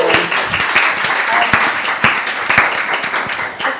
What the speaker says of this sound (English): That is, I mean, that is a round of applause, I feel.